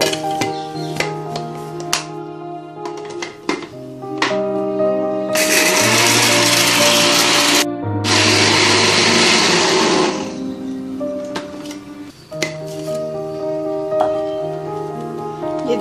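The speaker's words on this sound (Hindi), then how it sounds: "इनको पीस लेंगे अब।" An electric grinder grinds roasted black cumin, fenugreek seeds, whole coriander and black peppercorns: a loud, harsh whirring burst of a few seconds, cut briefly and resumed, set between stretches of background music.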